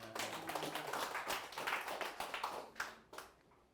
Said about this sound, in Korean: 동의하시면 뭐 동의 박수 한번 쳐주세요